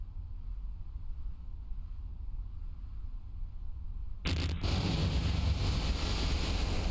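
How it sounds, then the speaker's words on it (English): A spacecraft splashes down on water in Kerbal Space Program. A low, steady rumble of wind gives way to a sudden loud impact, then a continuous rushing, surf-like roar. "It'd be a nice smooth water landing here."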